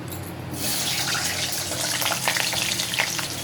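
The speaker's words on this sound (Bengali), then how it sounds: "তেল গরম হয়ে গেছে এখন আমি আলুগুলো দিয়ে দেবো" Potatoes sizzle in hot oil for a kacha kola kofta and egg curry, a steady frying hiss that swells after a quiet start and carries on with some crackle, close and fairly loud.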